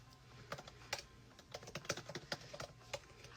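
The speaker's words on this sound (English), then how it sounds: "I hate the sound of typing, like on a physical keyboard." Keys clatter on a physical computer keyboard in quick, irregular bursts of typing, close and fairly quiet with no voices.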